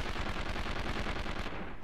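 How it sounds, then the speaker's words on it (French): Sustained gunfire in the PlayStation 2 game 24: The Game, a dense, continuous crackle of shots at steady loudness for under two seconds, with no voices over it. "Bon, c'est qui me tire dessus?"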